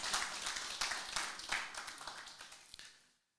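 A crowd at a political speech applauds with dense, sustained clapping that slowly thins and fades before cutting to silence.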